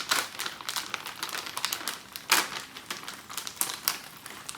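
A crinkling 12-ounce plastic bag of okra is poured out, giving close, sharp crackles in irregular bursts with a few louder rustles, heard alone.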